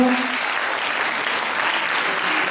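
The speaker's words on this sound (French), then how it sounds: "On l'applaudit très fort." Dense, loud applause from a crowd at a folk dance show fills the whole moment, steady and unbroken.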